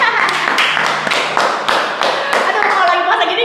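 Audience clapping at an Indonesian talk show, close handclaps in an irregular rhythm that build into a brief round of applause across the whole stretch.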